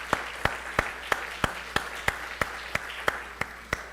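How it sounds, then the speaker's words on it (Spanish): A church congregation claps together in a steady, even rhythm of about three claps per second. The sharp, fairly faint claps carry on for several seconds with no talking over them. "Dale un aplauso al Señor."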